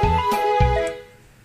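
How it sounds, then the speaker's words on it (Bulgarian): Pizzicato string notes play back from a music arrangement with the tambura accompaniment muted: a few quick plucked notes with sharp attacks that ring briefly and fade, heard alone. "Да видим как ще звучат тези пицикати"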